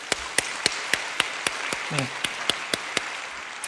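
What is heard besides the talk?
congregation applause in church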